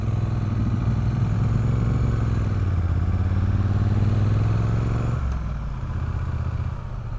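Loud motorcycles roar along a road toward Baguio in the Philippines, a close, continuous engine drone whose pitch slides and then drops as the machines ease off.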